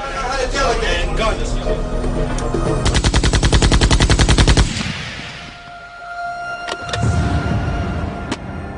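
A rapid burst of automatic gunfire rattles for a couple of seconds amid loud vehicle and street noise, followed by a lower rumble.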